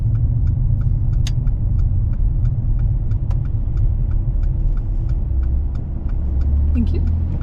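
Car engine rumbling steadily at low speed during a driving lesson as the car pulls over and parks on the left behind a van, with faint ticking of the indicator throughout.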